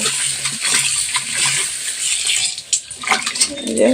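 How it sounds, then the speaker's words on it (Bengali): Brinjals being washed by hand in water in a village kitchen, with splashing, sloshing and light clinks of a vessel in short irregular bursts, close and fairly loud. "ধুয়ে নিচ্ছি বেগুনগুলো"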